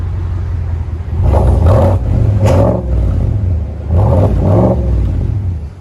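Two loud revving bursts from a GMC Sierra Denali/AT4 6.2L V8 through a modified straight-pipe or muffler-delete exhaust, each surge rising and falling over a deep steady idle rumble, close up with no talking.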